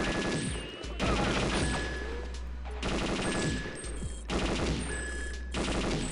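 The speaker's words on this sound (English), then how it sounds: "lots of gunfire going down" Dense bursts of rapid gunfire crackle and rattle in waves in the game Perfect Dark, with brief lulls between volleys over a steady low rumble, like a busy firefight.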